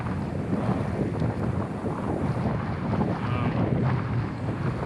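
Strong, gusting wind buffets the microphone while a Pungo 140 kayak is paddled on choppy water, producing a constant loud low roar with faint splashing beneath.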